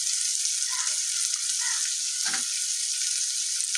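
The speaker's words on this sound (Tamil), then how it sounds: "இந்த காய்கறிலாம் நல்லா வதங்கிட்டு இருக்கு" Carrots and beans sauté with onion and tomato in a pan for vegetable kurma, giving a steady, close sizzle that runs the whole time, with a brief stir near the middle.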